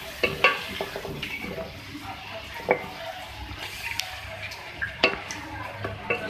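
Masala of red chili and turmeric powders with a splash of water is stirred and fried in a pan for chicken salan: soft sizzling under intermittent sharp scrapes and clicks of a spoon against metal.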